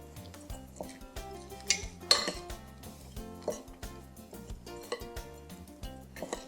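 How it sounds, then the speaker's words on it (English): Spoon stirring orange juice into a thick chocolate apricot mixture in a bowl, giving irregular close clinks and scrapes against the dish with a few sharper knocks, and no talking. "So we're going to stir that in."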